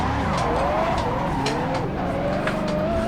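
A 300-horsepower Mazda Miata drifts in the Assetto Corsa racing game, its engine holding a steady high drone while the tires squeal continuously, loud and unbroken with no talk.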